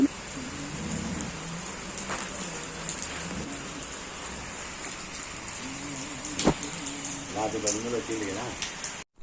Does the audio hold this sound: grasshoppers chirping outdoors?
no